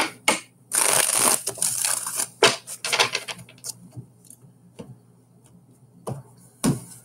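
A tarot deck is shuffled by hand, with dense papery riffling bursts at first, then scattered lighter card taps and flicks, close and fairly loud with no voices.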